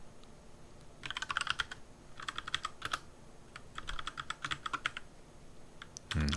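Bursts of quick keyboard typing in three clusters, clicks close and crisp, with brief pauses between bursts and a louder thump at the end.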